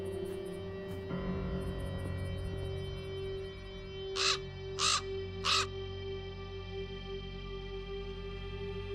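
Raven in Black Mirror II: three loud, harsh caws spaced evenly in the middle, over a low steady hum with faint ticking early on.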